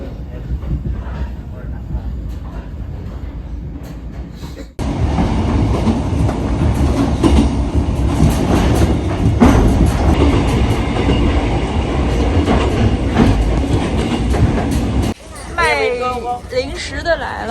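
Vietnamese sleeper train running on the coastal railway from Hue to Da Nang, heard from inside the carriage: a steady loud rumble with clattering wheels and rattling throughout, joined by a sudden louder surge partway through.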